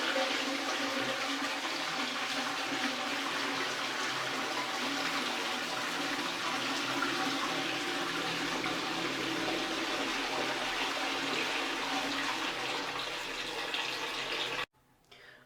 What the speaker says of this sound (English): It should flush.